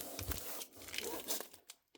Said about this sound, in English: Bubble plastic.